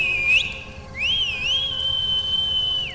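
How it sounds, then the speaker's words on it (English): A loud, piercing whistle, a short rising note followed by a long sustained tone that wavers slightly before holding steady. "a deafening whistle pierced the silence"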